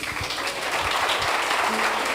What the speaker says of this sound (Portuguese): Gente, vamos aplaudir a Jesus?